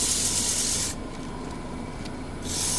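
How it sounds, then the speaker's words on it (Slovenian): A Mirka random orbital sander works the top of a square oak bowl, giving a loud steady hiss that drops to a quieter scrubbing mid-clip before rising again. "Zgornji del bomo pa zopet pobrusili z ekscentričnim brusilnikom."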